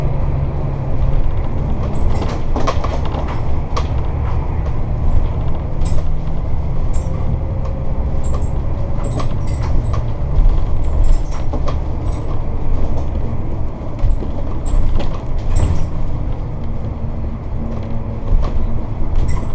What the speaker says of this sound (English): Now some of the noise and the shaking you're going to see, for example, like that, we're actually just going over a few speed bumps.